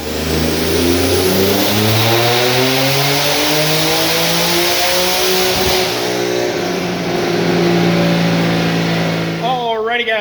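A boosted 3.7L V6 in an S550 Mustang revs hard on a dyno, its loud engine note climbing steadily in pitch through a long sustained pull before cutting off near the end.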